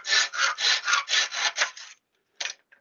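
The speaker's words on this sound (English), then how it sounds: "I don't really want to try and talk over the noise of the cutting" Arrow shafts being cut to length with a saw: about eight rapid, even rasping strokes close by, then a pause and one short final burst, with no talking.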